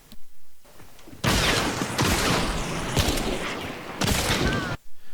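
Loud, close shots from a Crown King rifle in Hunt: Showdown crack out in a few sharp bursts separated by short quiet gaps, with no voice over them.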